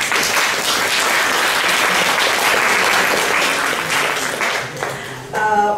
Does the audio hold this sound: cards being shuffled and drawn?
no